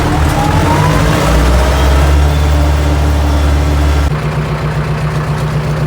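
A Lovol 354 tractor engine runs steadily while plowing a garden plot, a loud, close, continuous low diesel drone that shifts in load partway through.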